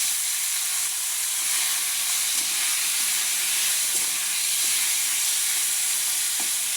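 Fish fry in oil with dried red chillies, a loud, dense, continuous sizzle and hiss, close up, with a few faint knocks underneath.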